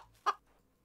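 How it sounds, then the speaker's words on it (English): A chicken in the game CHKN gives one short, sharp cluck, close and clear, set against near silence. "I feel like we should kill the chicken first"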